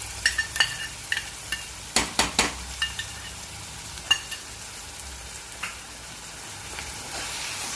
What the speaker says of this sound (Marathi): गॅस थोडा मंद करायचा आहे आणि ह्या तेलात आणि ह्या मसाल्यात हे वाटप छान एकजीव करून भाजून घ्यायचं।